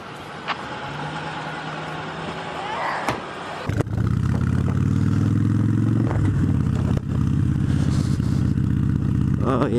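A motorcycle engine idles softly at first, then roars up loudly and holds a steady, throbbing drone close by, with a brief dip midway and faint voices early on.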